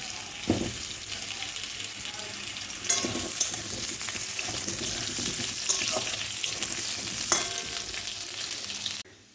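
Vegetable stalks and potatoes fry in a pan with a steady, close sizzle throughout, broken by a few louder scraping stirs and clatters of the spatula before the sound cuts off.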